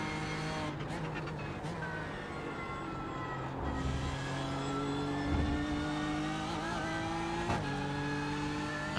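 In the iRacing simulator, a BMW M4 GT3 or Lamborghini Huracan GT3 Evo race car engine drones steadily through a hot lap, rising and falling in pitch with gear shifts, continuous and upfront.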